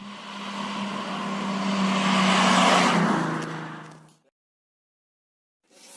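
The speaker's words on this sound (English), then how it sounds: "let me show you this little clip of this great little car I filmed yesterday" A small custom stance car drives past, its engine and road noise swelling loud and broad as it nears, peaking mid-pass, then dropping away quickly into near silence before a faint sound returns at the end.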